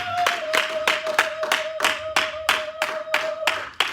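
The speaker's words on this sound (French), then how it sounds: "Acclame très fort." A crowd applauding loudly at a church gathering, a steady burst of rhythmic clapping beating in time at about three claps per second, with a sustained tone running underneath.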